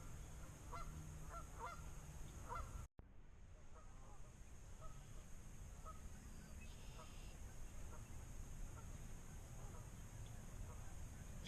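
Many wild birds call outdoors near water where bufflehead ducks gather, with repeated short honking calls and chirps scattered through steady ambient noise, some closer and some distant, after a brief cutoff early on.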